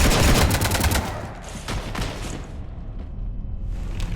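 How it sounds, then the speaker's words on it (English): Heavy gunfire strafing a starship in Mass Effect Legendary Edition, a loud rapid volley of shots at the start that thins into scattered echoing reports and fades away. "You want to stop shooting up my ship?"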